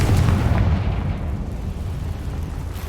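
A Confringo spell blast in Hogwarts Legacy erupts as a loud, rumbling explosion that hits at once and rolls on as a dense, low roar across the whole stretch, with no voices.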